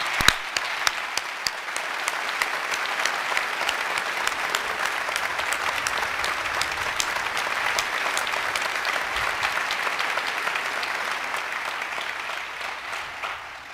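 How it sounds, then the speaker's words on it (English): A long, even round of audience applause rolls through a Harvey Mudd College commencement ceremony, steady dense clapping from a large crowd that stays at a constant moderate level without voices on top. "join me in one more round of applause for Mike"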